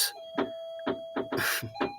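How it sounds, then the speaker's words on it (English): An electronic doorbell chime plays a short melodic sequence of several tones over a steady hum, with no one speaking. "that's my doorbell."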